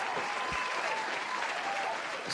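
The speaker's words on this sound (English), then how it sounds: "we don't argue, we don't contest, we just applaud." Steady, dense clapping from a small group carries on evenly at moderate volume throughout, as applause on a podcast's soapbox segment.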